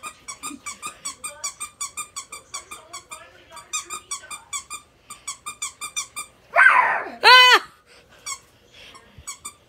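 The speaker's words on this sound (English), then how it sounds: "Squeaky dog." A squeaky dog toy squeaks again and again in a quick, regular rhythm, close and fairly loud, broken by a short pause. A brief loud burst and a rising whoop come near the end.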